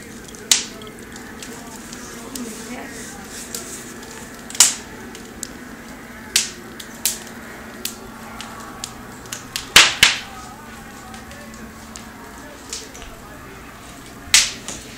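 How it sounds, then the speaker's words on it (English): Sharp pops and snaps burst out irregularly over a low steady rustle, like a crackling fire close by, with faint voices at times. "Fire's kind of loud, huh?"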